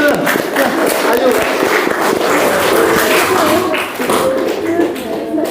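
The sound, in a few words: audience applause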